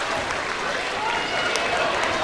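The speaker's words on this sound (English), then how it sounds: "Crowd is on its feet, cheering the victors" A crowd in a high school boys' basketball gym stands and cheers the winning team, a dense roar of applause and shouting that holds steady, with commentary voices running over it.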